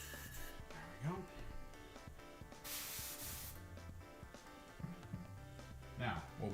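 An airbrush sprays cleaner through in one short, bright hissing burst, with a person talking quietly before and after it.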